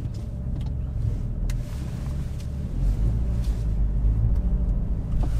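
A car rolls along in drive with a low engine rumble and road noise filling the cabin, growing slightly louder partway through, with faint clicks and no speech.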